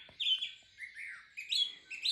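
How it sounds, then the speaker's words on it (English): Morning birdsong along the Queen Charlotte Track in New Zealand: bright chirps and short whistled phrases repeat in quick bursts, clear and fairly close, with no voices. "As you can hear around me, there are lots of birds."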